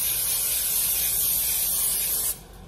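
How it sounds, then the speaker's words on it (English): Cooking spray hisses onto Atlantic salmon from Kroger in one loud, continuous close-up burst lasting about two seconds before cutting off, with no talking. "So I'm gonna spray this."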